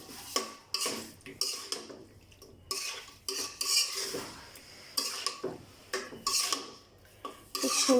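Hilsa fish being mixed with turmeric powder and salt, a utensil scraping and clinking against the pot in irregular bursts of stirring, close and fairly clear, with no talk.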